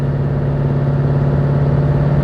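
A Corvette C7 Z06 cruises down the highway in track mode, its engine a loud, steady low drone with a strong hum and road roar heard from inside the car, continuous and unchanging.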